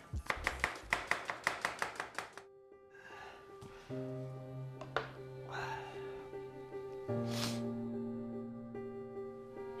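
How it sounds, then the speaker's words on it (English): Onions being finely chopped with a knife for kofta, a quick run of about a dozen close, sharp, rhythmic blade taps on a board, followed by a steady hum and scattered faint clatter. "So make sure it's nicely finely chopped."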